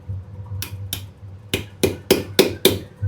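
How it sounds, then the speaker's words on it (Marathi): Seven sharp hammer strikes ring out, spaced apart at first and then coming faster, over a low steady hum. "त्याला ठोका ना वरून हातोडीनं"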